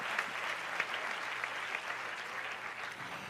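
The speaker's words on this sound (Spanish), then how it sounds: "Dele fuerte ese aplauso al Señor." Steady applause from a church congregation, a continuous wash of clapping at moderate distance with no voices standing out.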